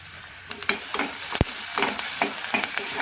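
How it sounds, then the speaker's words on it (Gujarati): Onions with garlic and curry leaves fry in a pan, a close, steady sizzle broken by sharp scrapes and taps of a stirring spoon, with no talking. "मस्त डूंगळी शेकाई गई"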